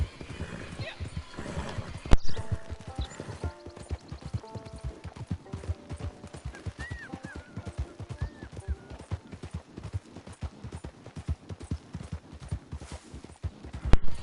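Horse hooves clip-clop at a steady, quick walking rhythm in the Red Dead Redemption 2 video game, with a brief whinny, continuing under someone talking.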